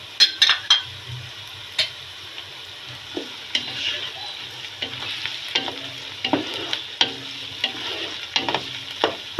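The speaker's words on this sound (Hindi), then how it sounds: "प्याज नरम हो गया, अब मैं ये सब चीज़ें डाल दूँगी इसमें" Onions fry in a pot with cinnamon, cardamom and black cumin added. A steady sizzle runs under frequent clinks and scrapes of a stirring spoon against the metal.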